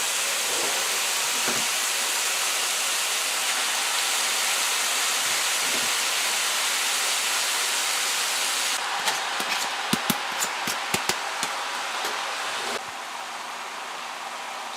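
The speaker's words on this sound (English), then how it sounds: "So it's time to add your rice now." Rice tipped into a hot pan of frying shrimp for shrimp fried rice, giving a loud, steady hiss of oil and steam, followed by a few quick metallic scrapes and clinks near the end.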